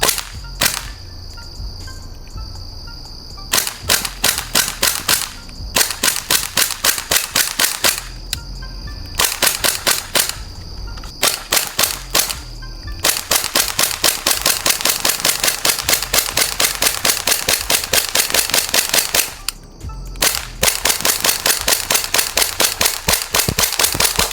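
An airsoft Glock 18C fires a full magazine in semi-auto, sharp close snapping shots in quick bursts with brief pauses between volleys, loud and alone.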